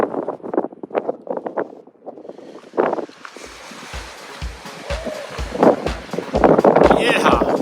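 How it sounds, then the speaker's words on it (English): Strong wind blowing across open desert terrain at the Desert Queen Mine in Joshua Tree, a broad steady rush with gusts swelling louder in the second half, a rhythmic thumping underneath, and a person talking over it early on. "And that wind is what makes it even colder than what it is."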